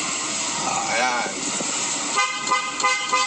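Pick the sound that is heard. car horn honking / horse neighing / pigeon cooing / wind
car horn honking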